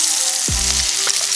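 A salmon steak fries skin-side down in a buttered pan, giving a loud, continuous close-up sizzle, with a brief falling tonal sweep as it is turned.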